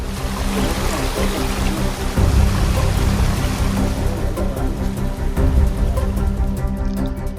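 Heavy continuous rain in a grape-growing area near Cumbum in Theni district, a dense steady rush of falling water with a loud even wash throughout and no voices.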